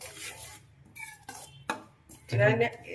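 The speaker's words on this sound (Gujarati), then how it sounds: "ચમચો આવી રીતથી ફેરવતો રહેવાનું" A spoon stirs mustard and fenugreek seeds in oil in a pan for amla pickle, making close, intermittent scraping and clinking strokes that grow louder toward the end.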